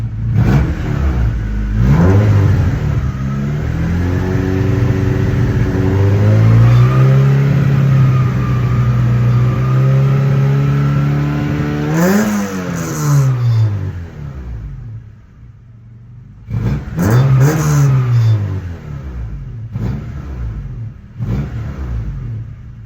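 A Honda EJ1 engine with an aftermarket header and test pipe revs repeatedly through a loud, raspy exhaust, climbing and dropping in pitch with a few sharp blips near the end.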